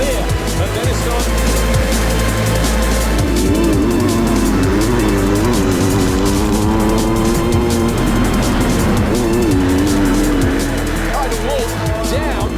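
Motocross bikes roar off the start gate at an MXGP race in France, a loud, dense snarl of revving engines rising and wavering in pitch, with a commentator talking over it.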